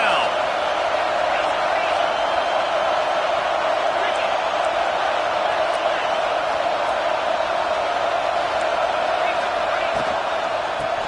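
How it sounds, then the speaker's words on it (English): A football stadium crowd at a Washington versus Texas A&M game roars steadily for the defense, a dense, sustained wall of cheering that stays loud and even throughout without breaks. "This crowd knows this defense needs them right now."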